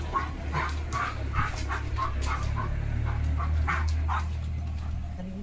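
German Shepherd outdoors in the rain near horses, giving a run of short barks and yips mixed with whimpers, moderately near, over a low steady background hum.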